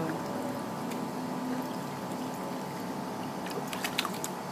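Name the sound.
baby splashing in a baby pool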